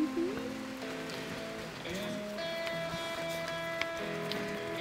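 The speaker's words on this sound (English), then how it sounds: "We got rain." Rain patters steadily on surfaces at a backyard grill during a lamb-rack cookout, a soft constant hiss under faint voices and some tonal background sounds.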